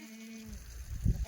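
Kathiawari goats bleating at a livestock sale yard, a few nearby calls rising over steady background noise toward the end.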